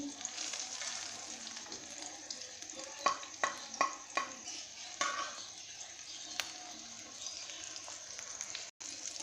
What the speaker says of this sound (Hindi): सबको साइड चेंज करके, ताकि जो घी है और वो अंदर तक जा सके और एग जो अंदर तक पक सके।